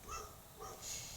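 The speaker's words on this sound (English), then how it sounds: "Sorry if you hear my neighbor's dogs barking." Faint, distant barks from a neighbor's dogs, a few short yaps spaced apart, under a quiet background hiss.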